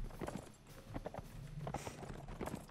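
Horse hooves clip-clopping in Mount & Blade: Warband, a steady run of close, moderately loud beats with a faint tonal hum underneath.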